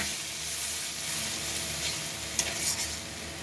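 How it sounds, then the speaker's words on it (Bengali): Masala spice paste for lote fish curry (Bangla lote macher jhal) frying and being stirred in a pan, a steady close sizzle under repeated scraping stirs, with a couple of sharper clanks near the end. "এতে অল্প করে জল দিয়ে মশলাটা খুব ভালোভাবে কষিয়ে নেব"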